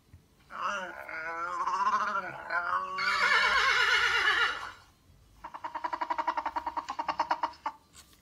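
Loud, drawn-out donkey braying with wavering wheezy cries, followed by a rhythmic series of rapid hee-haw pulses; no talking.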